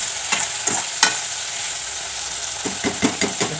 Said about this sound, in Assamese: ঢালি পেলাই অকণমান লৰাই দিম